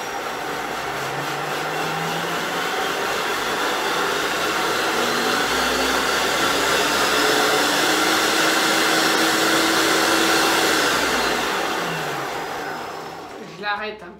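A Thermomix TM6 food processor whirs at top speed 10, a loud steady high-pitched roar that rises and holds for about twelve seconds before spinning down, with someone talking faintly underneath.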